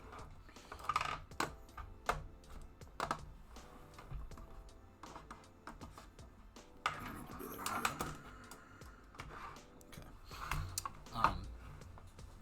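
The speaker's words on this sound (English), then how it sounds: "Let me move this keyboard over here so I can be in frame while I type." Typing on a computer keyboard close by, with irregular bursts of clicky keystrokes and short pauses, while a person talks intermittently over the clicking.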